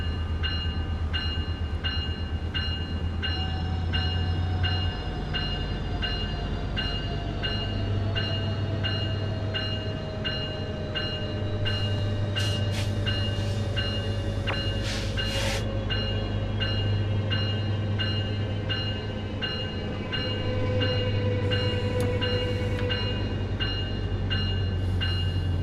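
Long Island Rail Road M3 electric train in Train Sim World 6 rolling steadily, with a continuous low rumble, a rising and falling motor whine, and faint squeals and clatter, up close and alone.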